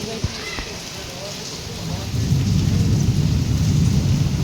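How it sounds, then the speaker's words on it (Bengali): Heavy rain pours down in a dense, steady roar that grows louder about halfway through, with an early sharp knock. "খুব বাজে লেভেল বৃষ্টি হচ্ছে মেবি বুঝতে পারছো"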